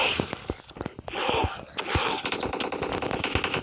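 Rapid machine gun fire in a zombie mode of a video game, with fast, close bursts rattling throughout the mix of game effects.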